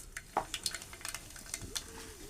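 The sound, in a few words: mustard seeds sizzling in hot oil in a small pot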